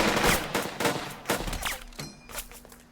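Rifle and machine-gun fire in the WWI strategy game Burden of Command, a rapid run of sharp overlapping shots over about two seconds, then sparser bursts trailing off.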